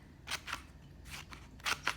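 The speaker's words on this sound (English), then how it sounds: "So now I just have to keep cutting, but I don't want to go all the way through the middle because you'll just cut the feather off." Scissors snipping through a paper feather for a quill craft, several short crisp cuts close by, quiet and uneven in rhythm.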